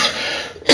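A single dry cough or throat-clearing burst, close and fairly loud, standing alone at the very end of a short stretch of quiet room tone.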